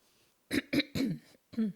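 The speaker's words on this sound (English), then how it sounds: "Did I cough through that?" A few short, sharp coughs in quick succession, close and fairly loud, with a brief pause before a final one.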